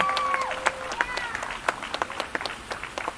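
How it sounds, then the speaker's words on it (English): Outdoor applause at a school-safety rally in a Surrey park, a loose scattering of claps and a few whistles from a modest crowd, moderately distant and thin, with murmured voices mixed in. "So another round of applause for all of our QP staff."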